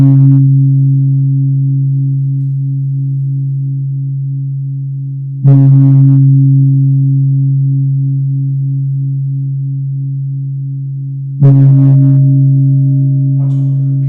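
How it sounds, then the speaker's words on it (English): A Vietnamese gong with a boss is struck three times, several seconds apart. Each stroke gives a brief bright attack, then a pure, low, steady hum that rings on and fades only slightly before the next hit. "I picked out this lovely, lovely Vietnamese gong with a boss and a beautiful back to it"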